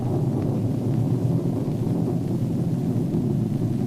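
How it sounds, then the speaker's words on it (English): Far-off thunder rolling over farmland, a low continuous rumble with a faint windy wash, steady and unbroken, with no voices over it. "That's thunder you're hearing, farmer, but it's a long way off."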